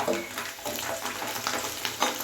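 Steady crackling sizzle of garlic frying in hot oil in a pot, close and continuous, with faint scraping stirs mixed in; no voices.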